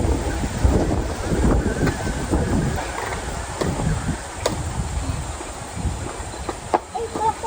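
Strong wind buffets and rumbles across the microphone without pause at a farm campsite, with faint clicks and knocks underneath and no voices.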